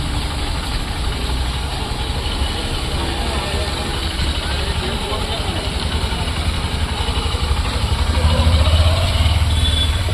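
A Honda SP 125 motorcycle engine idles close by, giving a loud steady low rumble with a fine rapid pulsing that swells slightly near the end.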